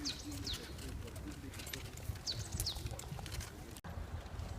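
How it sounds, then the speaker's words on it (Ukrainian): Birds chirp and coo outdoors in a park over a steady background hum, with occasional brief calls scattered throughout. "Пташки співають, мурашки сплять."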